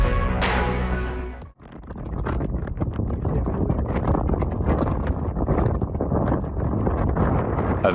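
Strong wind roars past during a slide base jump, loud and continuous buffeting after a brief dip in sound, rushing steadily to the end.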